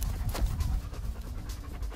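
A German Shepherd pants heavily during leash training, a quick run of rhythmic breaths close by with faint shuffling noise around it.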